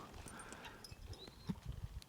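Percheron draft horses moving about, their hooves clip-clopping in faint, irregular steps that grow a little firmer toward the end.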